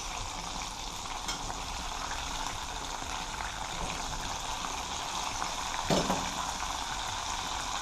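Chicken pieces frying in hot oil Jamaican style, a steady close sizzle and bubbling that runs evenly throughout with a brief louder crackle near the end.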